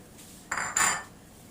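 Utensils clink and scrape against a bowl while pork lumpia filling is mixed, two brief close knocks of metal on dish amid quiet.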